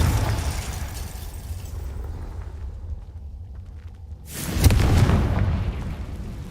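A Confringo fire spell from Hogwarts Legacy goes off as a loud, sudden blast with a burst of noise, after a stretch of low rumbling game ambience, then decays into a sustained roar.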